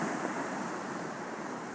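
Ocean surf washing onto a beach as a steady, broad roar of breaking water, loud and continuous, with a windy wash and no voices.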